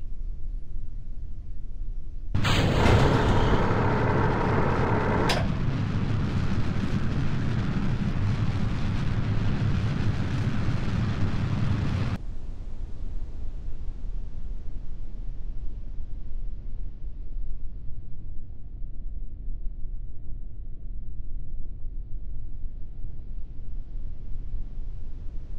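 Rocket engines ignite and roar at launch in the space-flight game Kerbal Space Program, a loud broadband blast with a sharp burst near the start that settles into a steady rumble for about ten seconds, then cuts off abruptly to near silence.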